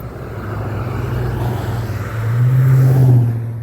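Road traffic near the bridge and dam at Lake Ontelaunee, with a car engine rumbling in the distance, growing louder as a vehicle approaches and passes close by, then fading slightly.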